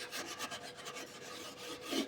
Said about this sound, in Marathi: तर आपण अशा प्रकारे शेगडी आता घासून घेतो आहोत.